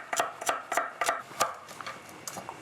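Carrots for a winter minestrone chopped on a cutting board with a knife, a steady series of crisp, close knife strikes, around eight to ten chops in quick rhythm with no talking.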